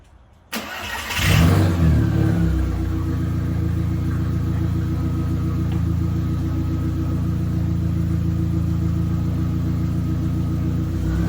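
A Volkswagen Jetta GLI Mk4 starts up and then idles with a steady, loud engine rumble as it prepares to back up, with no talking.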